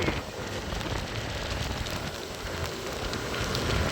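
Steady rain hissing and pattering on a surface during a rainy morning motorcycle ride, a dense, continuous wash of drops with no pauses throughout.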